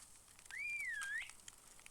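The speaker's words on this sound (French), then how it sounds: "Ok on le siffle et du coup il est là." Summoning a horse mount in a video game triggers a single clear whistle that rises and then falls, lasting under a second over quiet background with faint clicks.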